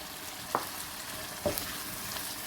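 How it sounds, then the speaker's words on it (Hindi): Pre-fried cauliflower cooking in hot oil, a constant soft sizzle broken by two brief clinks or knocks of a spoon, close by with no talking. "अब इसमें हम अपनी फ्राई की हुई गोभी ये डाल देंगे"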